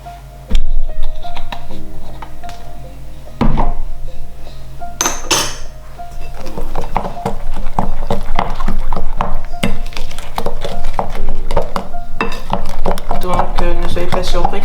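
Galette batter gets stirred in a bowl with a spoon, producing repeated scraping clinks and knocks against the bowl at a brisk, irregular rhythm, close and fairly loud, after a few initial taps of utensils.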